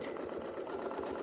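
A Westalee Gateway Flying Squares quilting setup runs a sewing machine for a single stitch: a steady, close mechanical whir with a soft rhythmic pulse that holds level through the short burst, with no voices.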